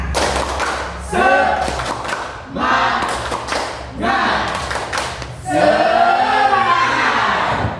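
Classroom pupils doing a rhythmic spirit clap, loud bursts of patterned clapping and thumps in several rounds, mixed with group shouting.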